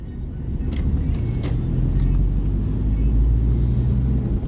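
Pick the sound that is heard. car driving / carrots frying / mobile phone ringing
car driving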